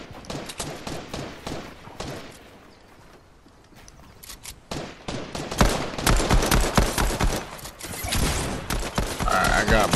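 Close-range assault rifle fire in a Fortnite duos match, dense bursts of rapid shots that build after a quieter stretch and stay loud through the end.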